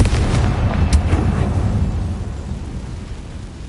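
Bombarda and Confringo spell explosions in the Hogwarts Legacy video game, a loud rumbling boom with a sharp crack that fades into a long, dull, decaying roar.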